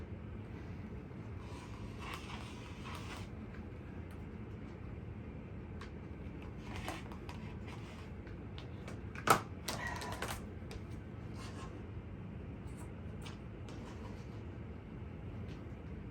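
A blade cuts through fabric for a book tote in quiet, scattered rasping strokes and short ticks over a low steady hum, with one sharper snap near the middle.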